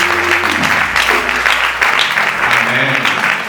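A church congregation applauds steadily throughout, dense clapping filling the room while voices and music murmur underneath.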